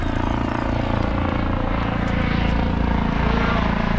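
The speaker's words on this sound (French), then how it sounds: "ah joli hélicoptère" A Spanish national police helicopter flies over a harbour, its steady rotor thump and engine roar loud and continuous throughout.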